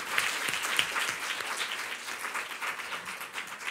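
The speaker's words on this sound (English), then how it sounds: "Now we will give, a round of applause, I think" A room full of people applauds at an international conference on online sexual exploitation, during a round-table session. The clapping is dense and sustained, fairly even in level, with no voices heard over it.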